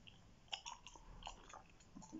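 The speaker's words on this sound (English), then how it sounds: "just a chewing gum ramble" Gum is chewed close to the mic, giving soft, wet smacks and clicks in an irregular rhythm, very quiet and alone.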